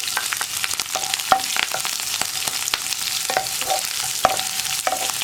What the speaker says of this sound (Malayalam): ഇനി സവോള ഒന്ന് സോഫ്റ്റായി വരുന്നത് വരെ നമ്മൾ ഇളക്കിക്കൊണ്ടിരിക്കണം.